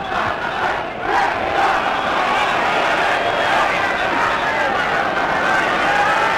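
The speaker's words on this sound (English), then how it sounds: "A full house and plenty of noise too from this marvellous crowd." A full football stadium crowd at Wrexham during a European Cup Winners' Cup quarter-final against Anderlecht, a loud, steady roar of chanting and shouting that swells after the first second and holds.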